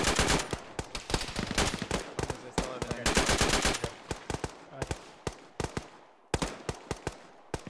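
Gunfire in the military video game Arma, played with ShackTac: close, loud, rapid shots crack in long automatic strings and scattered single reports, with brief gaps and a final few spaced bangs.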